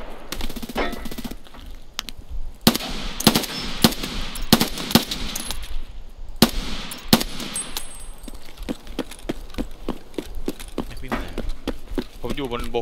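Automatic gunfire in Escape From Tarkov, repeated sharp bursts and single shots scattered across a tense firefight, some loud and close, others farther off, with players talking over the action.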